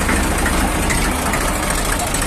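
An IMT tractor engine, warmed up for about an hour, idles with a dense, steady rumble and mechanical clatter throughout, close and loud.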